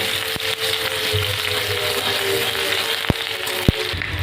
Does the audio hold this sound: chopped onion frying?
yes